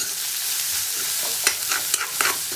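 A ladle stirring rice pulao in a hot pan, with a steady sizzling hiss throughout and several scraping strokes in the second half.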